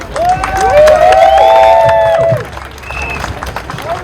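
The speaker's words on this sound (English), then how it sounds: "a huge round of applause to Farah," Audience applause and cheering for a speaker named Farah at a community event about London low traffic neighbourhoods, broad clapping that swells for about two seconds, then thins out beneath a voice.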